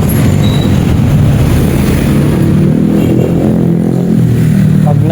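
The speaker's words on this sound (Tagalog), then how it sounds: "Harurot ng harurot." Vehicles revving hard as they speed past on a busy street by a public market, a steady loud engine roar and rumble close by throughout.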